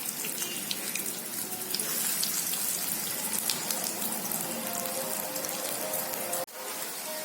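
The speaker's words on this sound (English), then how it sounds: "It's frying now." Dense, steady sizzling and crackling of potato pieces frying in hot oil, continuous and close, ending with a brief sharp clatter.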